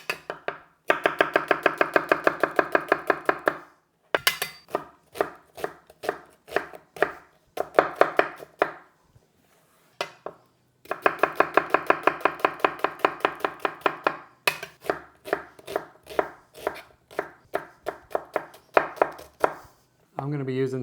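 A knife chops a peeled onion on a cutting board in rapid, crisp strokes, close and clear, falling into dense bursts separated by short pauses.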